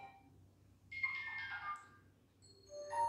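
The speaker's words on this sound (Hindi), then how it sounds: "अगर आपको टिंग टोंग वाला रिंगटोन लगाना है तो आप इस पे से किसी एक पे सेलेक्ट कर लेंगे" A 'ting tong' style notification tone previews on a vivo Y20 phone: a bright electronic chime rings out clearly for about a second, then a second shorter tone follows near the end, over a faint background hum.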